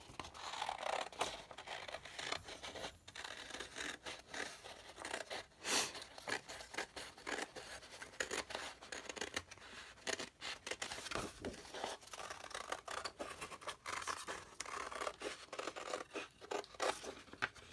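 Scissors snip through paper while cutting out a traced circle shape for a craft project, a close series of irregular crisp cuts with rustling paper in between, no talking.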